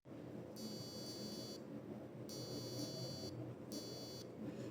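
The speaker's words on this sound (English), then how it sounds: "I activate the buzzer with the specified tone" A buzzer on a XIAO ESP32 board sounds in three separate bursts of roughly a second each whenever a switch is pressed. Each is a thin electronic tone over a low steady background hum.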